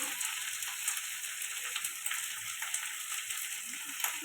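Bamboo-leaf fish curry with ginger-garlic paste, turmeric and chilli powder sautés in a pan, a faint, steady bubbling sizzle with small irregular spatters throughout.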